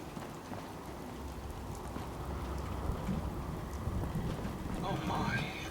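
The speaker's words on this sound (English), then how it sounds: "Oh my, it's raining again." Rain falls steadily in the Fallout 4 video game, a continuous, even hiss of drops pattering on surfaces, moderately loud and unbroken throughout.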